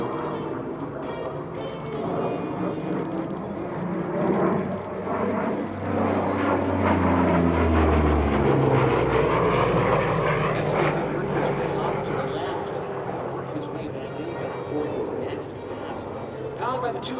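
A Flying Bulls P-38 Lightning with twin Allison engines drones loudly overhead at EAA AirVenture, its pitch sliding downward as it passes, while a commentator talks over it.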